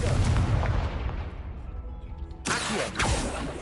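A Confringo fire spell bursts in Hogwarts Legacy, a loud booming explosion that rumbles and fades, then a second sharp blast of crackling fire follows near the end.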